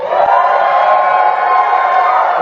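A wrestling crowd at a live Saturday night show cheers loudly and steadily, a dense sustained roar of many voices close up with no breaks.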